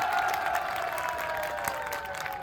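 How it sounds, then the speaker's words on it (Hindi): An audience applauds at a motivational gathering, steady overlapping claps spreading evenly through the room with no voices breaking through. "तालियों में कंजूसाई मत करो साथियों।"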